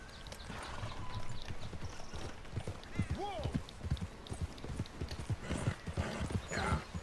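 Hooves of a horse in Red Dead Redemption 2 clip-clop in a steady walking rhythm, with a whinny midway, under ongoing conversation between characters.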